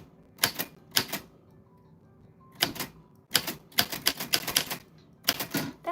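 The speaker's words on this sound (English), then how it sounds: "That's what your name sounds like on a vintage typewriter." A vintage typewriter types out a name in close, crisp clusters of keystrokes, several quick clacks at a time separated by short gaps in an otherwise quiet room.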